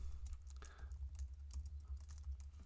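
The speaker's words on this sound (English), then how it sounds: "If I can type correctly here" Fast typing on a computer keyboard while writing Java code, a close, quiet run of irregular key clicks with brief pauses, no voice.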